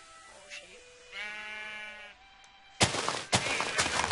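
A sheep in the video game Minecraft gives one clear, wavering bleat, followed by a burst of louder rustling noise.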